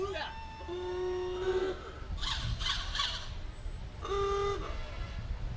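Two short blasts from an old-fashioned antique car ooga horn, separated by a pause, with voices and crowd noise between them at a Fourth of July parade.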